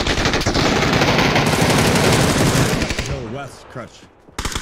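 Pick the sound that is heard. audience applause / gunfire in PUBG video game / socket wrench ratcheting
gunfire in PUBG video game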